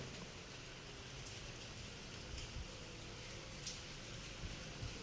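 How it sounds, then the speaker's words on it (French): Steady, even hiss of rain falling, soft and constant, with faint scattered drips and taps on a surface and no voices. "Pluie."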